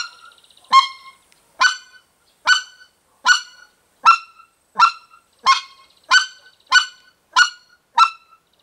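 White-fronted goose clacks imitated with a goose call, about a dozen sharp, clean honking notes spaced evenly around a second apart, loud and close with silence between.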